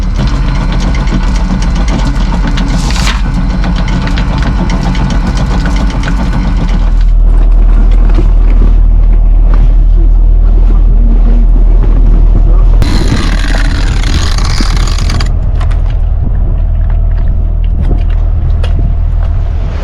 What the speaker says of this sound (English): we are picking up our hook and sailing further south